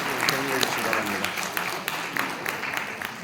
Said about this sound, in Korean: 박수로 한번 큰 박수로 격려해 주시기 바랍니다.